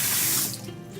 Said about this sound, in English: turn the hot tap on, that switch there moves, give me hot water